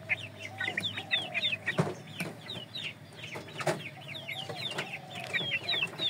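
Chickens cluck busily while being fed bran feed, a dense chorus of short repeated clucks and chirps from several birds nearby, with an occasional sharp knock amid steady low background noise.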